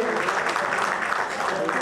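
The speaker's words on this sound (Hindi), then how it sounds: "दोस्तों एक बार सबके लिए जोरदार तालियों से स्वागत किया जाए पूरी कास्ट के लिए।" An audience claps continuously at a Bhojpuri film music launch to welcome the cast, a dense even wash of applause with a faint murmur of voices beneath it.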